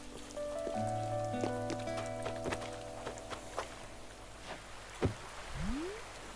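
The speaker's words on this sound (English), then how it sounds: "It's definitely the rainy season, end of June, isn't it? Everyone's got rain." Rain patters softly and steadily in the game Animal Crossing on a tropical island, with faint musical tones and sparse drips across the quiet scene.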